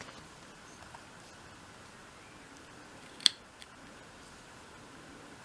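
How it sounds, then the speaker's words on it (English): Small scissors make one sharp snip through a tiny piece of material on a 1/12th scale miniature shop model. The single crisp cut stands out against quiet room hiss, with a faint click just after it. "So I'll just snip that off."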